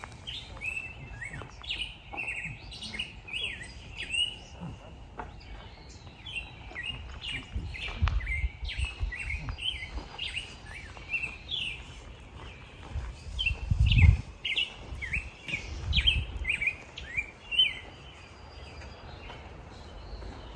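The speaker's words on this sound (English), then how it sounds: "Listen to the bird." Wild birds chirping and singing outdoors near a horse trailer, a steady series of short high tweets and trills repeating throughout, moderately close, with low rumbling and faint handling noises underneath.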